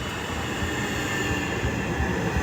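A London train running, heard from inside the carriage as a steady, loud rumble of wheels and motors that carries on without a break, with no voices.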